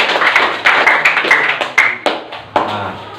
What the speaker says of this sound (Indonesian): kita berikan tepuk tangan untuk Rizky.